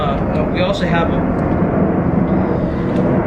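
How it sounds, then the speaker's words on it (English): An airplane flying overhead makes a broad, steady roar that fills the background, loud and constant, with brief voice sounds early on. "That airplane is just so annoying."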